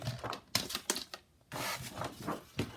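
Paper being cut to trim a folder tab for a Tim Holtz travel folio journal: quiet, close, crisp bursts of cutting, a few short strokes followed by two longer sustained swipes.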